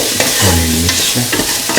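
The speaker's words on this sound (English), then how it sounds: "Thoroughly mix." Ginger, potato and onion rice being stirred and mixed in a hot pan, with a loud close sizzle and a few scraping strokes over barely two seconds.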